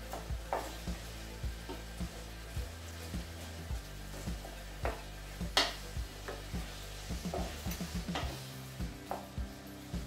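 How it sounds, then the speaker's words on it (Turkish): Chopped onions fry in oil in a pan, sizzling quietly and steadily while a spoon scrapes and taps the pan in an irregular stirring rhythm. "Şu anda yağda soğanları kavurmaya başladım."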